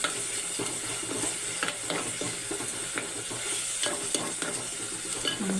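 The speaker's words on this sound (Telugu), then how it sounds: "కారం వేసిన తర్వాత శుభ్రంగా ఫ్రై చేసుకున్నాము" Chili powder frying in oil for a small fish curry, a dense continuous sizzle broken by frequent stirring scrapes of a spoon against the pan, close and without speech.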